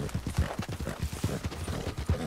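Rapid, rhythmic hoofbeats of a galloping horse in the video game Red Dead Redemption 2, steady and fairly close, with a faint whinny-like tone in the mix.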